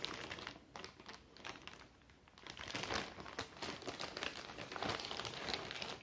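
A packaged canvas is unwrapped, its plastic wrapping crinkling and rustling in quiet, irregular handling sounds close by.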